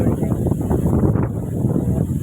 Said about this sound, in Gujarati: કેટલો બધો પવન છે, મારો અવાજ નહીં આવે